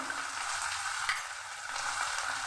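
Ginger garlic paste, a spoonful, sizzles steadily in a hot pan, a continuous close frying hiss with a faint stir clunk near the middle and no voices.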